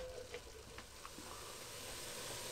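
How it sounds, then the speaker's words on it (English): Mince sizzles and fries steadily in a hot pan, a constant bright hiss with a few soft scraping stirs, close and fairly quiet. "once it starts to fry and sizzle again"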